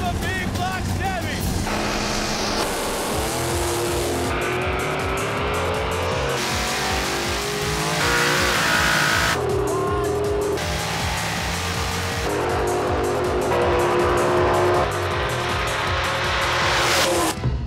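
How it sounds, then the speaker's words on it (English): A small block Ford and a big block Chevy doing a drag racing burnout, loud engines roaring in repeated revving bursts with tire squeal, while an announcer talks excitedly over the noise. "burnout! We have a small block Ford, we have a big block Chevy!"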